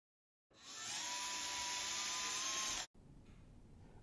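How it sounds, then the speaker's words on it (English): A power drill bores a tiny hole in the end of a short copper pipe sample, a steady, close, high-pitched whine lasting about two seconds before cutting off abruptly, then faint room noise. "I'm drilling a tiny little hole on the ends of those three samples"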